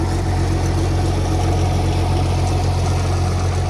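A diesel engine in a heavy machine idles close by, a steady, loud low rumble with an even throb and no voices over it.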